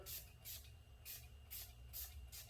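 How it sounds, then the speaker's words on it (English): Short hissing bursts of activator accelerator sprayed onto a seam in a large poly tank repair repeat about six times in a steady rhythm over a low background hum. "You spray the activator accelerator"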